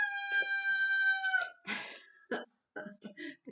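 A rooster crows loudly and close by with a long, drawn-out call, followed by shorter clucks and calls from hens nearby.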